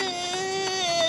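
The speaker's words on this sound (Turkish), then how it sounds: "Bu ağlama sesi de ne?" A whiny, cartoon-style crying sound, a wavering high-pitched wail that rises and falls over about a second, heard alone and fairly loud.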